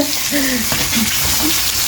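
Close, steady bubbling and sizzling from a pot on the heat, continuous without pause.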